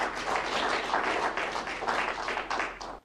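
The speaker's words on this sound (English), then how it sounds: "do they got these motherfuckers in here applauding?" Courtroom audience breaks into sustained applause after a sentencing, a dense wash of many hands clapping at steady loudness, then cutting off abruptly at the end.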